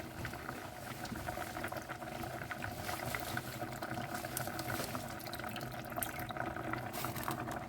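Fish curry broth bubbles steadily in a covered pot, a soft continuous boil with faint watery churning that stays even and low throughout, no voices over it.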